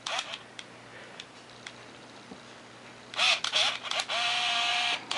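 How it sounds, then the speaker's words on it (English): Several crisp mechanical shutter clicks from an Olympus Infinity Stylus Epic DLX film camera, followed by a short burst of whirring and clacking, faint and close, in an otherwise quiet room. "the shutter is activating"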